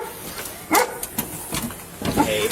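A big dog barks several times from behind a door, the deep woofs punching through at irregular intervals over a steady background hum.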